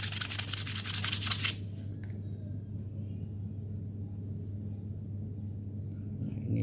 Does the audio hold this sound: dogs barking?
no